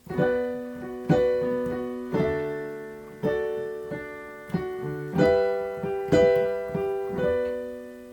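Solo piano plays the verse of a song at a gentle tempo, with chords struck roughly once a second, each ringing and decaying before the next, close and clear with no voices.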